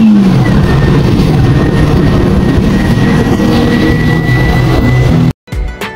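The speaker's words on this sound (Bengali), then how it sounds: "এই বাসের ইঞ্জিনের সাউন্ড আমার কাছে কিছুটা বিমানের শব্দের মতো লেগেছে" A Mercedes-Benz coach's engine roars steadily from inside the cabin on the Dhaka–Mawa expressway, a loud, sustained jet-like drone with a high whine, cutting off abruptly near the end.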